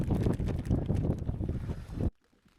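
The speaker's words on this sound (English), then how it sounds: "So it's a westerly wind today, quite strong" Strong westerly wind buffets the microphone outdoors near a boat on the water, a loud continuous roar with gusting surges that cuts off abruptly near the end.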